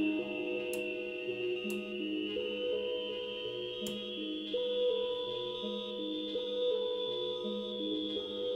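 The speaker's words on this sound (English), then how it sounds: "we got us a boring static sequence here" A modular synthesizer loops a static sequence of stepped, repeating tones over a sustained high drone. It plays alone at a steady, even level.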